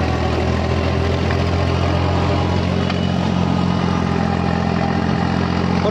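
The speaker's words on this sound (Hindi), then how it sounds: "और हैरो के ऊपर जो है रूटावेटर चला रहे हैं।" A 3630 tractor engine drones steadily while running a rotavator over a harrowed field, a loud, continuous low rumble with no pauses or spoken voices.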